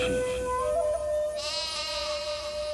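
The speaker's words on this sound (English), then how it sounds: "Sheep." A sheep bleats with a wavering, drawn-out cry, close and fairly loud, with no talking.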